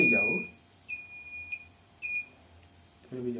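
Buzzer of an ultrasonic parking distance sensor gives several clear, bright beeps at a moderate, even pace, with short bursts of speech before and after.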